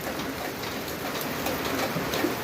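Heavy rain pours down in Manikganj, Bangladesh, as a dense, constant hiss with scattered drops tapping on a surface close by.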